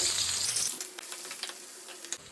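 Sliced onions hitting hot oil in a pan, a bright hiss that is loudest at first, then settles into a steady, softer sizzle with small pops.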